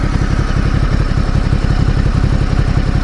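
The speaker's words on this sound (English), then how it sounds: "it's got a real nice sound with that exhaust on it" A Ducati Multistrada 1200S engine with an aftermarket carbon fiber Termignoni exhaust idles with a deep, throaty, rapid pulsing exhaust note, steady and close for the whole stretch.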